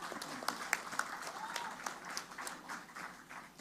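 Moderate clapping rises from an audience at a mangrove botanical garden inauguration in Surabaya, a loose scattered patter of hands with a few sharper claps standing out, fairly distant and not very loud throughout.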